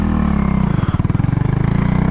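A Honda Grom motorcycle fitted with a 17T sprocket accelerates, its single-cylinder engine close and loud, the exhaust note rising into a fast pulsing throb.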